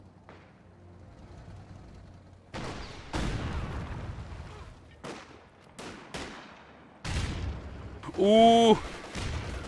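Machine gun and battle fire in Company of Heroes 2: several loud booming bursts and rattling volleys at irregular intervals, with a distant tonal whine near the end and a man reacting briefly.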